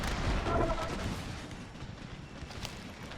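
Gunfire from a battle in the strategy video game Empire: Total War, with a dense rumble of massed musket and artillery fire that stays steady and moderately loud without speech.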